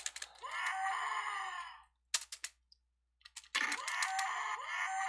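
A loud scream in a 1996 RSD Game Maker game, heard twice: a long sustained wail, a short gap with a few sharp blips, then the scream again, close and unaccompanied by talk.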